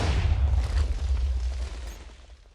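A deep, rumbling boom with a heavy low roar that slowly fades out, no voices over it: a TNT explosion in Minecraft.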